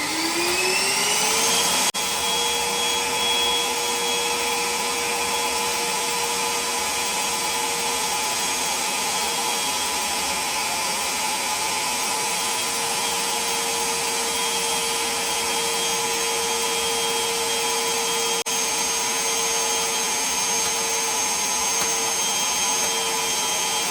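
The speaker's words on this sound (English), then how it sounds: "And of course you can vacuum any water from the floor." A Parkside PWDA 20 Li A2 cordless wet and dry vacuum cleaner runs steadily, a loud constant whine and airy rush with a rising pitch as the motor spins up, then an even drone.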